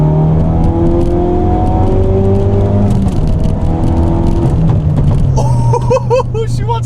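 A tuned 450bhp Ford Focus RS accelerates in third gear from around 4,000 rpm, its engine note rising steadily and loud from inside the car, with an excited voice breaking in near the end.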